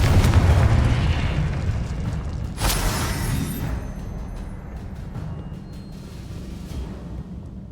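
Confringo fire spell in the video game Hogwarts Legacy: a heavy blast opens the clip, a sharp crack lands near 2.7 seconds, and a rumbling tail fades under a quieter game ambience.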